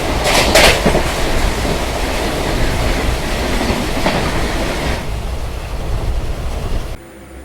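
A Poorna Express sleeper class train rolls along steadily with continuous loud rumble and rattling clatter, a brief hiss of wheel and air noise early on, the din cutting off abruptly near the end.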